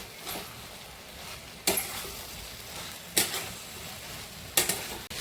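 Fried cauliflower being stirred into chilli sauce in a pan, with a soft steady sizzle and three distinct scraping spoon strokes at even intervals.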